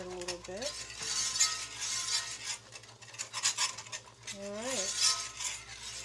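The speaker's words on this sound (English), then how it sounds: "We don't want it to stick, so we're going to keep stirring it a little bit." Country ham gravy stirred in an iron skillet, a spoon scraping and clinking against the pan in repeated strokes, close and fairly quiet, with brief faint voice sounds between strokes.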